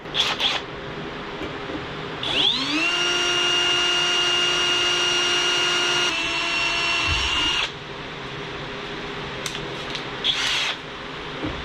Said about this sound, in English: So let's go ahead and drill this hole out.